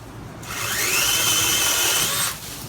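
A Greenworks 40V 16-inch brushless cordless chainsaw cuts through a tree limb, its motor rising into a steady high whine for about two seconds before cutting off, close and loud.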